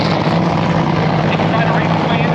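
A race car engine at a 2024 Dallas race roars loud and close, with a dense, steady, unbroken blast of engine noise for the whole stretch.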